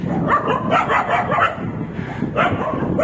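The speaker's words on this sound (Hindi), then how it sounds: "मुझे प्रतिदिन इन कुत्तों से भी लड़ना होता है, इनकी ललकार से," Street dogs on a road in Jaipur bark repeatedly in a quick, uneven series of close, loud barks and yips, with overlapping calls from more than one dog.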